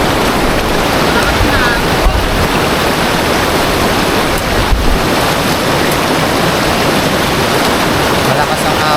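Strong, rushing water current roars loud and steady throughout, a dense unbroken wash of turbulent flow with gusty wind buffeting the microphone.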